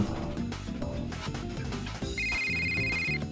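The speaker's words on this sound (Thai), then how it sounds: "เสียงโทรศัพท์โทรมาสักขนาดนี้ก็สัมผัสได้ถึงความตึงความตึงเครียดแล้ว" A telephone rings with a short electronic tone in the Roblox game ABA, sounding over busy background game music and effects.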